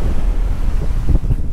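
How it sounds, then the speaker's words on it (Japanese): Strong wind at the seaside roars and buffets the microphone in a loud, continuous low rumble, with the surge of waves blended underneath and no voice. "風がめっちゃ強いですね。"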